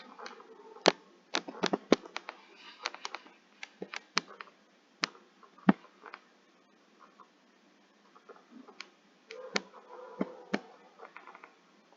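Keystrokes on a computer keyboard while typing a line of HTML into Notepad on a Windows computer, sharp irregular clicks in quick bursts with short pauses, close and fairly quiet, no talking.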